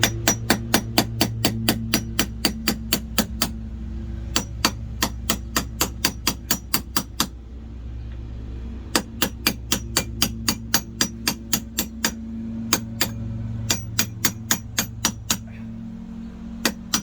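Metal socket extension struck repeatedly with a hammer to drive out a tilt trim part on a 2002 Mercury two-stroke outboard: sharp ringing clinks in fast steady bursts, close and loud, with short pauses between runs over a low hum.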